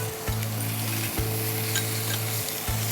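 Ground black pepper and cumin sizzle and fry steadily in a pan as they are stirred, with a constant crackling hiss and a few soft scrapes and knocks from the utensil against the pan.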